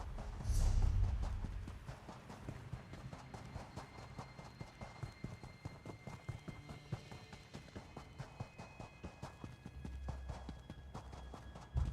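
Galloping horse hooves in the Elder Scrolls Online Alik'r Desert, a steady rapid clip-clop running throughout at moderate level, with a few louder thumps near the start and end.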